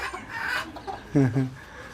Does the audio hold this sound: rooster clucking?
yes